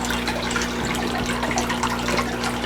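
Iron solution poured steadily into the plant water of a basement aquaponic garden, a continuous close splashing rush that lasts the whole moment without a break.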